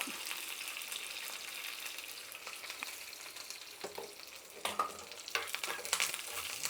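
Tempering of round red chillies, curry leaves and asafoetida sizzles steadily in hot oil, a quiet continuous frying hiss with a few stirring scrapes and brief louder crackles near the end.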